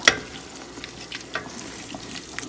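Pasta sauce sizzles in a pan as it is stirred, a steady soft frying hiss broken by a few sharp scrapes and clicks of the spoon against the pan, close and moderately loud.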